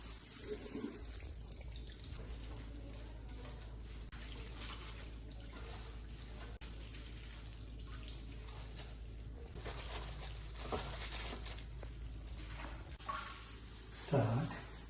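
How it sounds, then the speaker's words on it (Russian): Salted cabbage being rinsed with water: a steady, soft rush and patter of running water, fairly faint and continuous, with a brief louder splash near the end. "Мы сейчас эту капусту слегка промываем от лишней соли"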